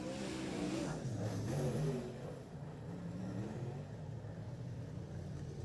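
Late model race cars running a lap-time dash at Lismore Speedway, with a loud engine roar that swells and then settles into a steady, slightly distant drone.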